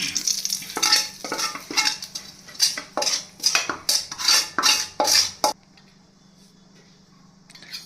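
A hot tempering of mustard seeds and curry leaves goes into a chutney. About a dozen rhythmic metallic scrapes and splashes sound over a frying sizzle, then the sound drops to a faint, steady hiss.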